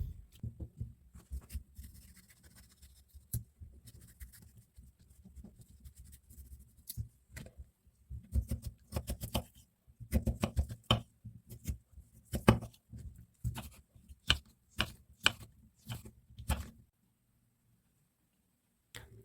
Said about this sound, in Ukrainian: Свіжий огірок нарізаю кубиками